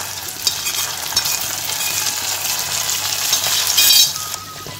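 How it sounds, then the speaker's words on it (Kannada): Sugar pongal cooking in a pot as a mixture is stirred in, a close, steady sizzling and bubbling with scraping stir strokes and faint clinks, rising briefly louder near the end, no talking. "ಇದನ್ನು ಈಗ ಬೇಯ್ತಾ ಇರುವ ಪೊಂಗಲ್ಗೆ ಸೇರಿಸ್ಕೊಳ್ಳುವ"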